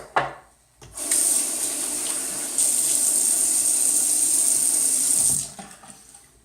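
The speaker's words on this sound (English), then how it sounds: "So let me just wet the face." A bathroom tap runs steadily for several seconds, a loud, close rush of water used to wet the face before shaving, starting and stopping abruptly.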